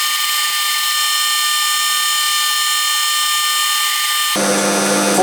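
Lathe machining a steel stub arbor at about 200 RPM with plenty of coolant, a loud continuous high-pitched whine and hiss that holds steady, then shifts abruptly in tone near the end.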